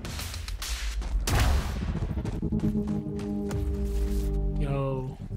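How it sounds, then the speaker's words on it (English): A burst-fire pistol in Quantum Break sounds off in several sharp volleys of shots mixed with game impacts. A voice talks over the gunfire near its end. "I still have this burst fire pistol."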